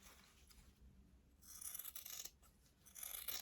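Scissors trim the fabric edges of a sewn bookmark, giving quiet close snips and crisp cutting rasps in short bursts.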